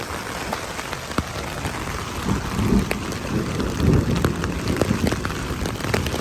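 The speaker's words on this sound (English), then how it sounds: "Look at the hail, guys." Dense pelting from hail falling steadily on the Pacific Crest Trail near Hat Creek Rim, with scattered sharper ticks and a few heavier thumps over a rough, continuous roar.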